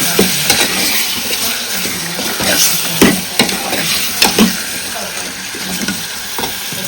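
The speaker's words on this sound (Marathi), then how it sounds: "थोडंसं आपण चांगल्यापणे परतून घेऊया" Chicken masala, added to already-browned onions, sizzles and fries in a pan while a spoon stirs and scrapes in uneven bursts, close and fairly loud over a steady frying hiss.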